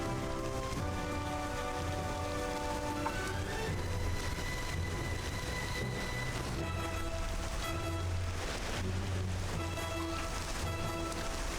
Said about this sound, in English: Why is the rain inside here?